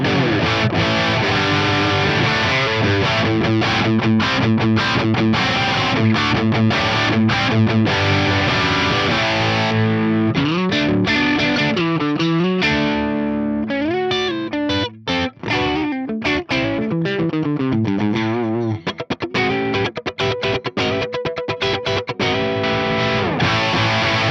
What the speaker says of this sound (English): I can get a wide range of tones from a full-on crunch to a kind of nice spanky clean